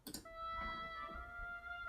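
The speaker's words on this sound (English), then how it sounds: "the oboe is actually from the Berlin Woodwinds Expansion B" A sampled oboe from the Berlin Woodwinds Expansion B library sustains a single long reedy note after a brief onset, with light reverb in the background.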